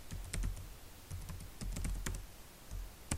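Keys clattering on a computer keyboard while VLAN settings are entered in Packet Tracer, in irregular quick bursts with short pauses, close and fairly quiet, with no talk.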